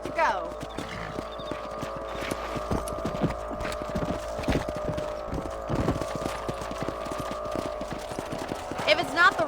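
Horse hooves clip-clop in a steady trotting rhythm throughout this scene from the video game Red Dead Redemption, with a voice speaking over the hoofbeats and a brief whinny near the end.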